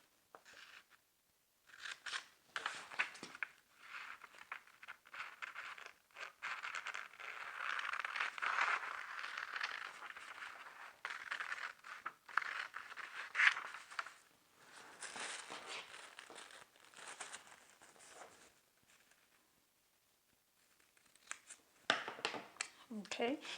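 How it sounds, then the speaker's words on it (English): Paper scissors cut along a line on a sewing pattern, making repeated quiet crunching snips and paper rustles in bursts with short pauses, close up and soft. "we're going to cut along the new cutting line using our paper scissors"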